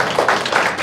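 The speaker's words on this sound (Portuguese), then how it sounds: "Merece palmas." Audience at a council meeting claps, a dense close patter of many hands that continues without a break.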